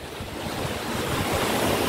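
Ocean waves break and wash up on a Palawan resort beach, a steady broad roar of surf with wind buffeting the microphone, building slightly louder toward the end with no voices.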